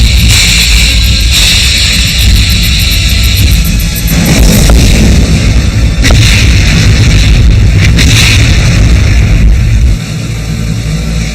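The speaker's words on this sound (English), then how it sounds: "Two British merchant ships exploded and disappeared beneath the waves." Torpedo explosions strike British merchant ships at sea, heard as a loud, dense, continuous roar of rumbling blasts and crackling noise with surging peaks throughout.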